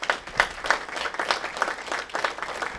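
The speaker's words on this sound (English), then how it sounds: "So go ahead and give them a round of applause." A high school robotics awards ceremony audience gives a team a round of applause. The clapping is moderate and sustained, with rhythmic bursts from several nearby hands and no talk over it.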